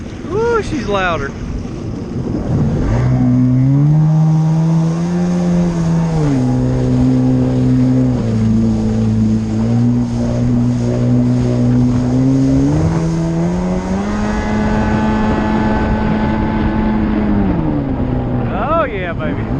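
Personal watercraft engine fitted with a TDR WaterBox and a Blowsion gas cap, a loud steady revving roar that rises and dips in pitch over open water, with wind noise and a brief voice before and after.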